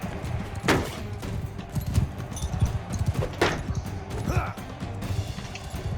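Horse hooves clopping in Mount & Blade II: Bannerlord during a battle, a steady run of dull thuds with occasional sharper impacts and clashes mixed in, with someone talking over it.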